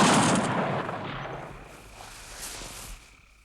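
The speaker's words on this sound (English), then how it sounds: "Firing squad, at the ready. Take aim." A firing squad fires a single sharp rifle volley in a Joe 90 TV episode, a loud burst that fades into a long echoing decay.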